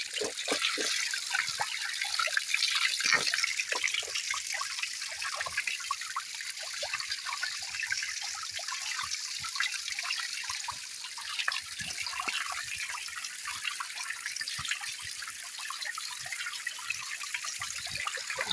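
Treated drinking water flows steadily at an outdoor water source in Africa, a continuous close trickling and splashing wash with no voices.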